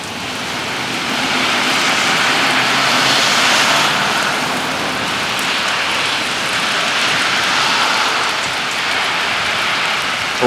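Steady rain from a thunderstorm pours down with a dense, hissing patter, loud and continuous throughout, rising slightly in intensity midway.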